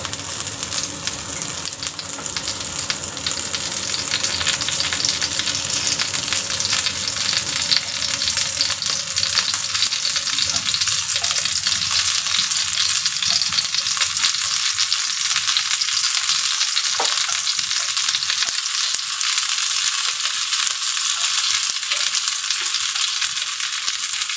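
Lumpia frying in hot oil, a dense, continuous crackling sizzle that stays loud and even throughout, with faint clatter of the pan now and then.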